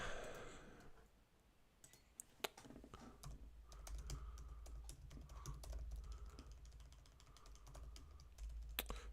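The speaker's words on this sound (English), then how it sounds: "My typing's terrible." Close, quiet clatter of fingers on a computer keyboard comes in uneven bursts of keystrokes, with a sigh near the start.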